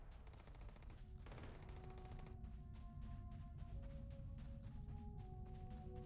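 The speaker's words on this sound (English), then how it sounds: "There was some gunfire coming up this way." Repeated gunfire crackles in fast bursts in the video game Starfield, over a steady low rumble and tonal game-like hum, continuous and fairly dense throughout.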